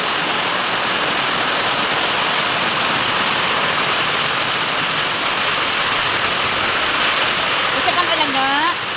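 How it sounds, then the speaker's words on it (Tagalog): Steady, dense roar of heavy rain pouring down, constant and loud throughout, with a brief whistling tone near the end. "Grabe ka kusog sa ulan guys."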